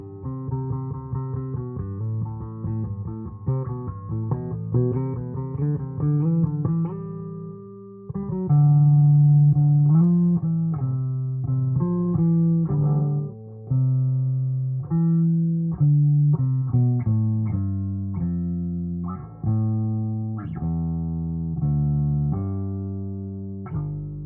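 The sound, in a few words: bass guitar with tone knob at zero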